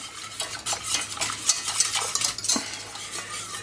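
A whisk beats steadily through sauce in a pot, thinning it with added broth for braised beef tongue in spicy sauce, making quick rhythmic metallic scrapes and sloshes close up, with no voices.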